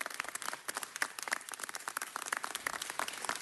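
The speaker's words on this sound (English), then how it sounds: "I want to give her a huge round of applause" A City Council meeting audience gives a community advocate a steady round of applause, dense clapping from a moderate crowd that continues throughout without speech.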